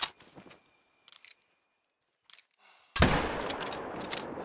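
Rifle shot at a grizzly bear in theHunter: Call of the Wild, set in the Yukon: after a few quiet clicks and faint rustles, a single sharp, loud report bursts out and rings into a lingering echo.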